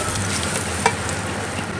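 A vegetable French omelette sizzles and fries steadily in a pan, a continuous close crackle with one small pop near the middle and no talking.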